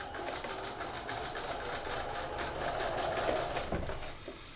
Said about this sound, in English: I'm just going to stitch right along the edge of my hem.